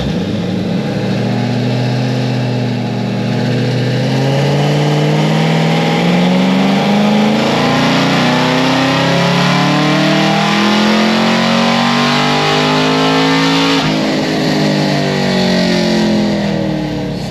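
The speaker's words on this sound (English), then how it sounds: "I'll make a full pull now." A car engine on a dyno makes a full pull on low boost and 93-octane fuel, revving steadily upward for about fourteen seconds. The roar is loud, continuous and distorted, then cuts back and settles near the end.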